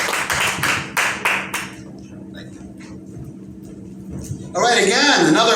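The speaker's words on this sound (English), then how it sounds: "All right, again, another applause for Rick." A stand-up comedy club audience gives a few loud, separate claps, then goes quiet with some murmuring before breaking into a fuller burst of applause and cheering at the end. Voices are heard in the room.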